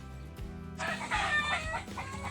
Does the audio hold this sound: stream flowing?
no